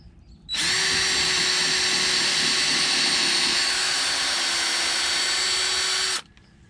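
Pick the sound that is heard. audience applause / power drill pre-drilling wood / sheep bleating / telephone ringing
power drill pre-drilling wood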